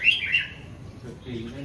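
Caged pet birds chirp in a few quick, high tweets near the start, fairly close, over a low background hum.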